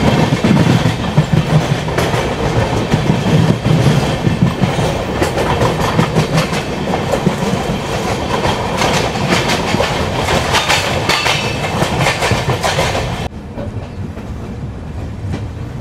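The Sairang–New Delhi Rajdhani Express runs on rails past Bongaigaon in Assam, a loud continuous rumble with rhythmic clickety-clack of wheels over joints, steady throughout, softening slightly toward the end.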